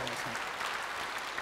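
An audience at a church sermon applauds in a brief, steady wash of clapping lasting about a second and a half, with faint voices underneath.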